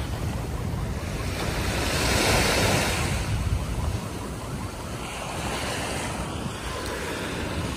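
Sea waves washing steadily along the Manila Bay baywalk, a continuous broadband surf wash with wind noise on the microphone, swelling slightly in the middle of the stretch, with no talking.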